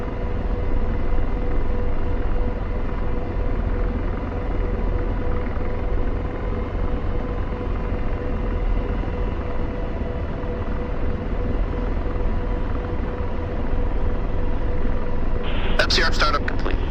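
DCS flight simulator helicopter, heavily loaded with missiles, with a steady loud engine and rotor drone filling the whole stretch and a brief burst of higher sound near the end.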